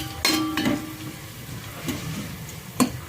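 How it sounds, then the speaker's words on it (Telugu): Long-sliced onions, lightly salted, frying in oil on a low flame: a steady, close sizzle with occasional sharp clinks and scrapes of stirring. "గోల్డెన్ కలర్ వచ్చేంత వరకు ఈ ఆనియన్స్ని ఫ్రై చేసుకోవాలి లో ఫ్లేమ్ మీద"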